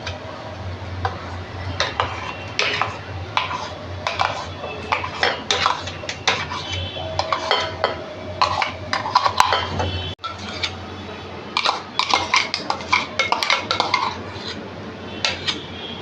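Repeated clinks and scrapes of a utensil against a metal pot as boiled raw mango paste is added, irregular and fairly close, continuing steadily with no talking.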